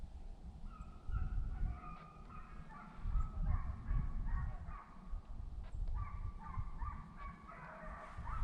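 Hunting hounds bay and bark repeatedly during a deer drive, several dogs overlapping in bursts at moderate distance over steady outdoor rumble.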